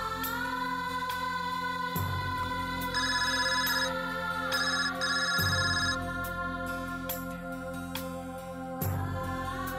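A mobile phone rings with a repeating electronic melody, loud and close, cycling through several phrases in a household scene with no talking over it.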